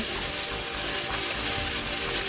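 Potatoes sizzle in duck fat in a hot pan, a dense continuous crackle and hiss that stays even and fairly close throughout the short stretch.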